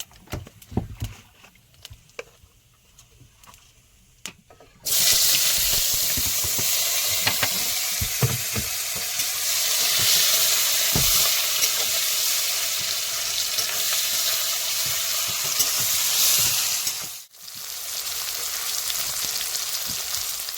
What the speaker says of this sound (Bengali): পেঁয়াজ কিন্তু আমার হালকা ভাজা হয়ে গেছে